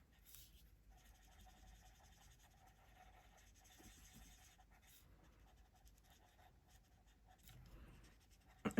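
Faint, steady scratchy strokes of coloring on good paper, with soft quiet rustles and no talking.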